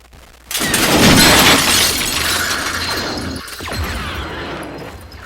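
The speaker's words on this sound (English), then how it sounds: "you hear glass breaking and a shot" Glass shattering loudly and close in a tabletop game session, a sustained crashing spray of shards that fades, then a second sharper burst that fits a gunshot, with no talk.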